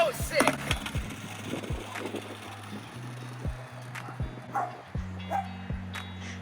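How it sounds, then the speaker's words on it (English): A dog barks repeatedly in the background at a backyard skate session, short sharp woofs spaced through the clip over the rolling and clacking of a skateboard on wood, with excited voices nearby. "There's a dog cheering you on in the background."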